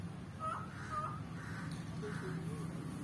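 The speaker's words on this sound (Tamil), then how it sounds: "காக்கா தாண்டா அப்படி கத்துது." Crow cawing outdoors in a bamboo setting, a few faint, distant caws spread across a quiet background with soft voices murmuring.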